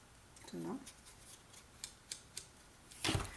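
Scissors snip through a strip of cardboard close by, a short run of crisp cuts followed by a louder crunch near the end, with a brief voiced sound early on.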